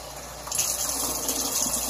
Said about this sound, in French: on va aller prendre de l'eau tiède. Et simplement remplir notre bocal